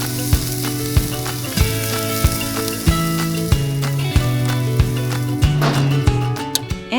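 A cheeseburger patty sizzles on a griddle with a constant bright hiss, while a rhythmic, looping music-like tonal pattern with regular beats plays loudly over it.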